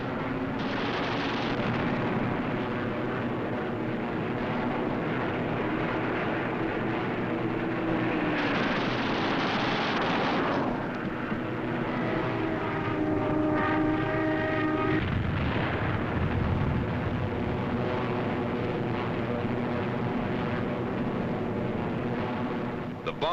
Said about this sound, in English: armor-piercing incendiary 50 caliber ammunition makes a flash when it strikes,